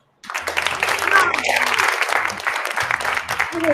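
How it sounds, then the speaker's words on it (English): Audience applause plays as a sound effect on an entertainment news show, a burst of clapping and cheering that starts abruptly and runs steadily to the end, with voices mixed in. "Where's my audience applause?"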